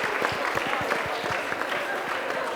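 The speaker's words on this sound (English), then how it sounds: "Let's give them a round of applause." An audience breaks into applause in a room, a dense run of many hands clapping steadily for a few seconds at moderate loudness.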